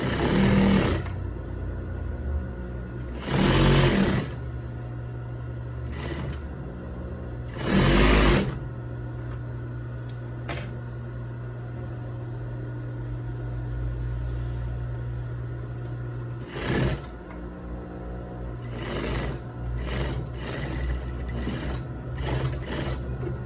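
Sewing machine stitching the hem of a zip-up lab coat: a steady mechanical whir running throughout, close and clear, broken by several short, louder bursts of fabric handling and rubbing, with no talking.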